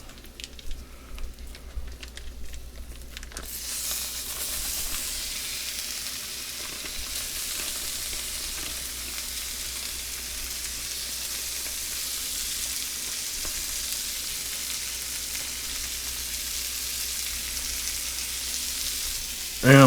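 A pound of ground beef goes into a pan with browned shallots and starts sizzling, a steady, bright frying hiss that swells after a quieter start and holds evenly, with faint stirring and no voices.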